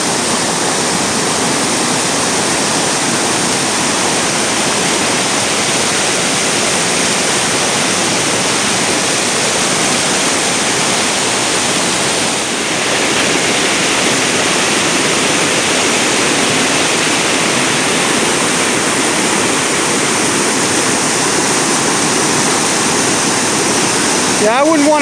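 Class 5/6 river rapids rushing below an overlook, a loud, steady roar of churning whitewater that stays constant and close throughout.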